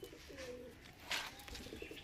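Pigeons in a loft give soft, low cooing calls, faint and somewhat distant, with a brief brighter rustle or flutter midway amid quiet background noise.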